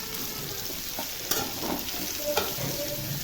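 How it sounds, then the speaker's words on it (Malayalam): Mango pickle mixture sizzles in hot oil while being stirred in a pan, a steady crackling fry with soft scraping strokes and a couple of brief clinks, close and moderately loud. "മാങ്ങ ഇട്ട ശേഷം നന്നായി ഇളക്കി കൊടുക്കാം"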